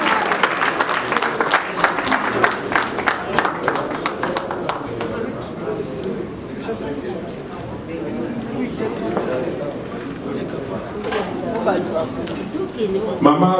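An audience claps for a speaker at a gathering, uneven bursts of applause that thin out and swell again, mixed with crowd chatter and voices talking over it.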